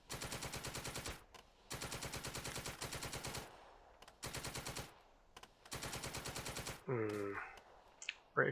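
Paired medium machine guns rattle in the Second Front video game, several long sustained bursts separated by short pauses, loud and close, followed by a brief distorted shout.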